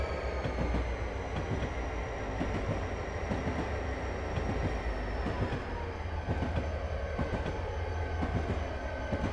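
A train accelerating in Train Simulator 2016 on the Soldier Summit route from Provo to Helper: a steady, loud rumble of rolling wheels with rhythmic clickety-clack beats and a faint high squeal above.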